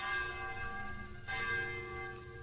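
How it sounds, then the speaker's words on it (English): A church bell rings with a rich, sustained tone, its overtones lingering as a second strike swells in partway through. "Dick heard the sound of a church bell."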